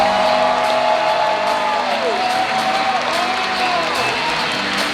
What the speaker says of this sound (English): let's give a big round of applause for the director of One Piece Film Red